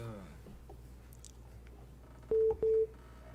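Two short, loud electronic phone tones sound close together near the end after a dropped call, following quiet background murmur and small clicks.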